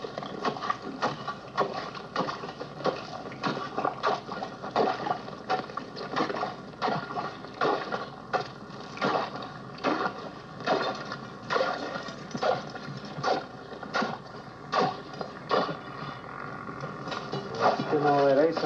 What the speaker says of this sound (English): to chop through with a chisel like this will take a guy about 10 minutes